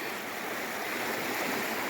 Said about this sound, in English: We have a little water crossing to do here.